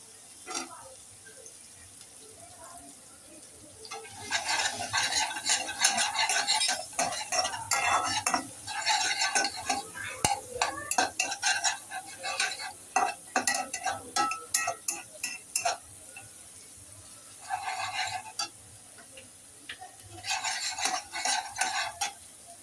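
Vegetables with cabbage stir-fried in a pan for fried rice, with loud, close scraping and clattering of a spatula in irregular bursts over a faint sizzle, and a few pauses between rounds of stirring.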